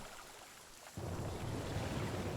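Rain and thunder in the survival game The Flame in the Flood: a low rumble builds into a sudden heavy downpour that hisses on steadily and fills the space, with no voices.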